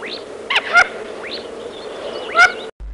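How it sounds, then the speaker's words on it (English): Mandarin duck calls: a few short, sharp rising whistled notes spaced across a few seconds, clear and fairly close with no voices. "mandarin duck"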